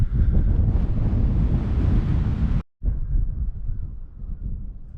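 Strong gusty wind on a tidal island buffets the microphone in a loud, continuous roar, breaking for a split second of silence before rushing back in, with no voices.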